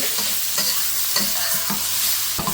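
Deveined grey prawns hiss in a hot wok with a bright continuous sizzle, punctuated by several rhythmic spatula tosses and scrapes, close up with no talking.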